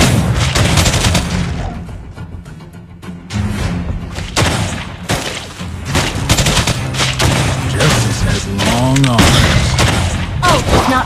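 Rapid gunfire from the gunslinger hero Clint in the mobile battle game Mobile Legends, a loud burst of overlapping shots and booms that keeps going under game effects and voice lines.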